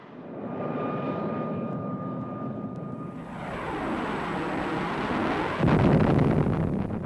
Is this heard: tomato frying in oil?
no